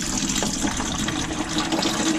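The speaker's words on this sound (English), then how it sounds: "we have water dripping from here" Water runs and splashes from a newly fitted caravan shower fitting, a close, steady gurgling trickle with no talking.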